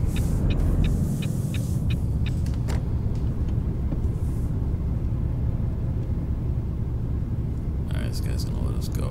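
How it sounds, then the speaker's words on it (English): Truck engine in Euro Truck Simulator 2, a steady low diesel rumble running throughout at moderate level, with someone talking over it. "let me know if the truck is too loud"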